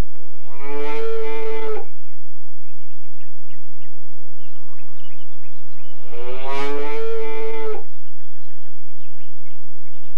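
A cow moos loudly twice, each long call lasting over a second, separated by a quiet pause with a low steady hum underneath.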